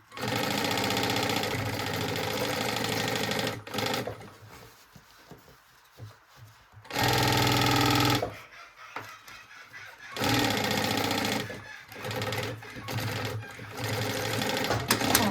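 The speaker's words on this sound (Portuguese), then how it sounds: "venho e costuro esse ladinho aqui" Sewing machine stitching a backpack seam, running in long loud buzzing bursts with short pauses between them, with quieter handling noise in the gaps.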